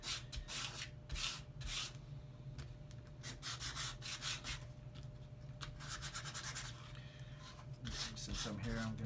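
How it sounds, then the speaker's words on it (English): Repeated rasping strokes of sandpaper on a wooden part of a mechanical tower windmill model kit, a steady hum running underneath and the scraping bursts close and fairly quiet. "Use a little bit of sandpaper."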